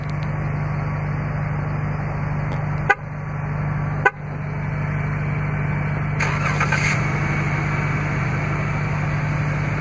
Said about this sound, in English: just double press the remote start button on the key fob.